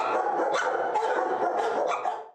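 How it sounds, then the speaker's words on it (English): Dogs in indoor-outdoor kennels at an animal shelter bark repeatedly in quick, overlapping bursts, fairly close and loud with some yips mixed in. "These dogs are taking full advantage of their indoor-outdoor kennels at the Arizona Humane Society."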